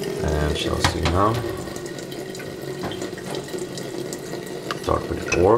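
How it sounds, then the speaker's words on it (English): Water runs steadily from a tap through a Panasonic water filter set to its strongest level, a continuous near splashing flow with a brief voice at the start and end. "So let it flow a little bit and then take some water."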